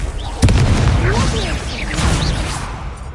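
Confringo fire spell explosion in Hogwarts Legacy, one sudden loud boom followed by a rumbling, crackling tail, with other game effects and voices around it.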